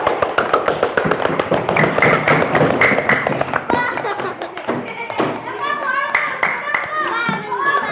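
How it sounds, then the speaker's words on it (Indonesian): A class of children claps together in a classroom: a dense burst of hand claps and thumps, followed by a teacher and children talking. "tepuk tangan untuk kita semua"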